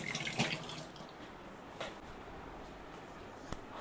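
A tap runs steadily while someone washes their hands, with a soft hiss of water and a few small splashes and clicks close by, and no talking.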